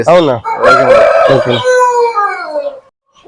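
A one-year-old copper-coloured fighting rooster, about four kilos, crows loudly and close, one long drawn-out cock-a-doodle-doo that rises and then trails off into quiet.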